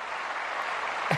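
A short applause sound effect from a button plays as a steady wash of clapping and cheering for about a second.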